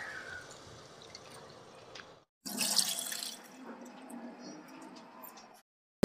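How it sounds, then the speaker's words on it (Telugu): Tamarind pulp is squeezed by hand in water for a bitter gourd stew, producing soft wet squelches and drips, with one louder sloshing burst in the middle of an otherwise quiet, close scene. "నేను వేసిన చింతపండు అంతా ఇలా చక్కగా మొత్తం రసం వచ్చేంత వరకు పిండేసుకున్నానండి"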